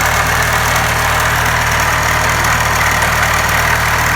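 The warmed-up engine of a Merkur XR4Ti runs loud and close with a tappy top end, a steady dense mechanical roar with fine rapid ticking through it and no pauses or talk.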